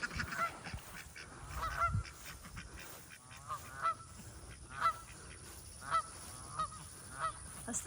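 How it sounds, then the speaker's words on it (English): Whistling ducks at a farm feeding spot give a run of short, sharp calls at roughly one-second intervals, fairly close, over a steady background hiss. "Whistling ducks."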